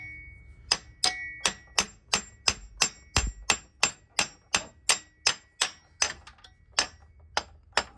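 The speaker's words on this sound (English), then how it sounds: "Sometimes you can just hammer it out with the hammer itself." Repeated hammer blows knock an axle out of a 2000 Honda Accord, about twenty sharp metallic strikes in a steady, slightly uneven rhythm, loud and close with ringing decay and no talk.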